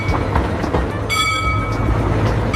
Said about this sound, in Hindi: ट्रैम रेल शहर की सड़कों पर चलने वाली रेल होती है।